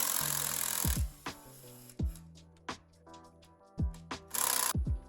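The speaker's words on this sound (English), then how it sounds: "we can go ahead and loosen the clutch bolts up" Supermoto clutch bolts being loosened with a power tool, several short loud whirring bursts with pauses between them, close by, no voices.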